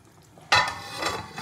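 Katla fish kasundi curry in a pan, a soft quiet start that breaks at once into a steady bubbling sizzle with light stirring noise, close and fairly loud, with no voices.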